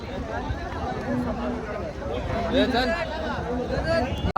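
A crowd gathers around prize bulls for photographs at a rural bull event, a dense, close murmur of many voices with people talking throughout and occasional shouts rising above the babble.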